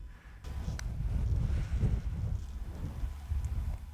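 Wind buffets the microphone on a links golf course, a low rumbling gust that rises and falls steadily for a few seconds with no voices.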